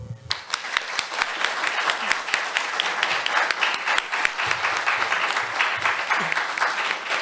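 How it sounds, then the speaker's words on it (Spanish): An audience applauds at a Spanish-language event, a crowd of many hands clapping in a lively, dense patter with sharper individual claps standing out, with some faint voices underneath. "Pido un aplauso para todos ellos."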